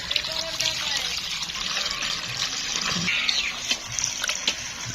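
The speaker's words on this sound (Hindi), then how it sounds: "ये देखें जी सब पंजे धो के हमने हांडी के अंदर डाल दिए।" Water trickles and splashes as chicken feet are washed by hand in a village kitchen before being put in a cooking pot. The splashing is close and continuous, with light clatter mixed in.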